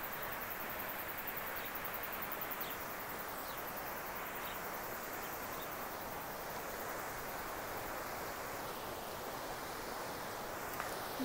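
River water flowing through Karangahake Gorge, a steady broadband rush of moving water heard from above, constant in level with faint outdoor ambience and no talk.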